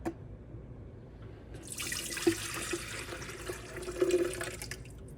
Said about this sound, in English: you want to pour into your kettle the 2 cups of water